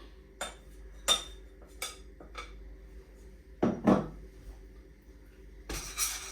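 Roasted almond powder stirred in a pan for almond laddu; a metal spoon knocks and scrapes against the pan in sparse, separate clinks over a quiet background.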